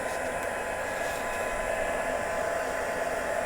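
Heat tool blowing steadily to dry alcohol ink on vellum, a constant loud whooshing rush of air that holds unbroken for the whole stretch with no talk.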